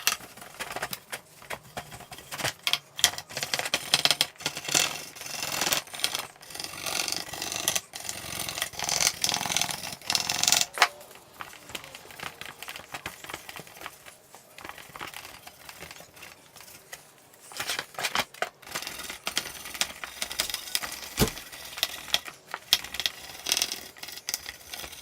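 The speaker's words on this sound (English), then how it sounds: "So a little bit of brake clean, some scrubbing, and she'll be good as new." A junkyard valve cover is scrubbed with a brush and brake cleaner. Brisk, rough scraping comes in bursts up close, with occasional clicks and knocks, pauses between stretches of scrubbing and no talking.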